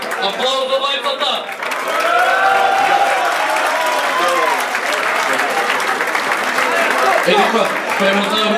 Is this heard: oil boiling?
no